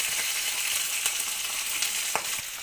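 Curry leaves fry in hot oil with a dense, steady close sizzle and a few sharper crackles and pops throughout, and nobody speaks.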